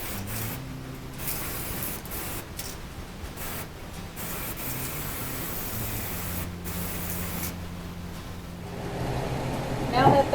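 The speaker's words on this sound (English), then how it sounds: "I'm going to seal it up with some polyacrylic." Polyacrylic sealer hisses from a spray can onto a painted thrifted vintage mirror in several bursts of differing length, broken by short pauses, with a faint hum under them.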